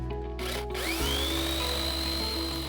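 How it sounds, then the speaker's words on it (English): A Greenworks Pro 80V cordless 18-inch chainsaw cuts firewood with a loud, steady electric whine that rises in pitch as the chain spins up, holding at full speed without any voices. "this Greenworks Pro 80V 18 chainsaw is a convenient power source for firewood cutting"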